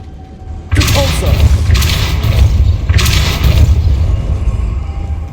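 A stone mechanism spun by the Depulso spell in the Hogwarts Legacy video game, starting with a sudden heavy boom, then grinding, rumbling rotation with repeated surges as the platform rises, loud and close.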